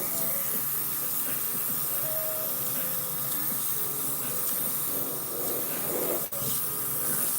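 Steady close hiss of an airbrush spraying paint onto a 3D printed Red Hulk figure, a continuous airy spray running for several seconds without speech.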